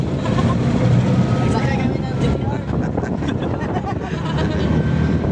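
A turtle motor boat cruising on an artificial lake in Tangub City: a steady low engine rumble and wind buffeting the microphone, with people talking over it throughout.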